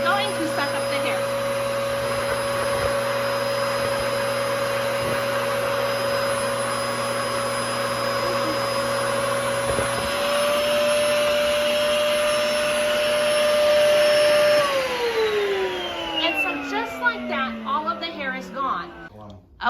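An Eye VAC PRO touchless stationary vacuum runs with a loud, steady motor whine while sucking up swept hair, its pitch shifting midway before spinning down toward the end, with a person talking over it.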